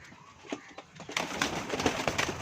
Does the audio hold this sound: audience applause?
no